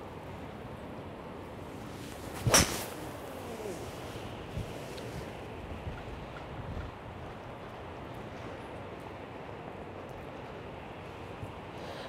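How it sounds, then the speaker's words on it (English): Strong wind buffets the microphone on an outdoor golf course, a steady rushing roar with a brief louder gust early on. "You see how windy it is, guys. It's really windy."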